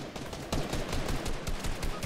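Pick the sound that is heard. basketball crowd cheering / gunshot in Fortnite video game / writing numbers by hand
gunshot in Fortnite video game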